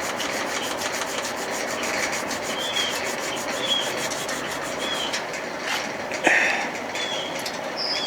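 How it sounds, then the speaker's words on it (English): Scuff pad scrubbing paint off the power head of a 55 Evinrude outboard motor, a steady, close, rasping rub with a gritty rhythmic scratch that stays loud and even, with no talking. "I'm gonna try this little scruffy pad here."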